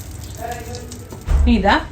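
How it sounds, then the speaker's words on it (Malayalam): Ghee poured into a hot pressure cooker, a soft sizzle and frying hiss that swells in the final half second, with a voice talking over it throughout. "അതിലേക്ക് ഒരു 1/4 കപ്പ് ഗീ ഒഴിച്ചു കൊടുക്കുന്നുണ്ട്"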